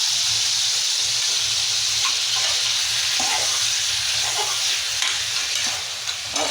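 Ginger garlic paste sizzles and fries in hot oil for chicken liver fry while a spoon stirs it, a continuous close hiss with scattered scraping taps, no talking.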